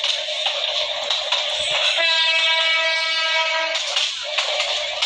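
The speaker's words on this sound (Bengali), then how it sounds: "চলো আমাদের ট্রেনের স্পিড আমরা 50-এর মতো রাখি" Commuter train in a Bangladesh railway video game running at about 50, with a steady rolling rumble and a sustained horn blast in the middle, loud and close.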